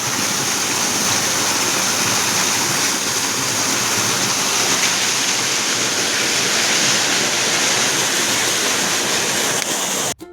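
Irrigation water gushes steadily from a pipe into a mustard field, a dense, constant rushing wash that holds at the same level for about ten seconds with no voices.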